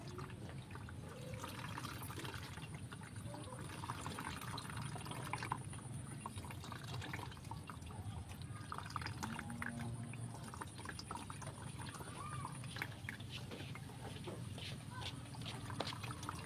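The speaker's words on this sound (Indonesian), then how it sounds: "Ini langsung kita peras ya." Liquid being squeezed out of natural plant material by hand for homemade organic liquid fertilizer, a soft continuous trickling and dribbling of water throughout, close and fairly faint, with low background noise.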